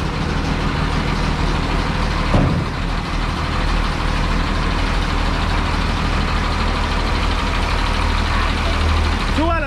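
A dump truck idles loudly and steadily while its bed is lowered, a constant low diesel rumble close by with a brief mechanical shift partway through; a voice speaks faintly underneath.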